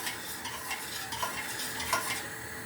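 A sugar and starch mixture is stirred in a pot while making a Lambada cake, a steady scraping swish with light clinks, continuous and close, with no talking.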